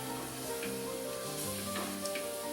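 Roux being whisked into melted butter in a pan for lobster bisque gives a steady, close sizzle and soft stirring swishes running throughout, with no voices.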